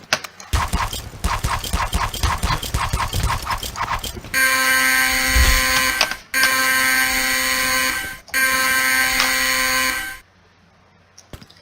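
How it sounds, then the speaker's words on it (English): A loud electronic alarm in a D-Day Normandy first-person shooter game blares in long sustained buzzing tones broken by brief gaps, following a stretch of rapid clattering game noise, then cuts off. "Whoever turns that alarm on."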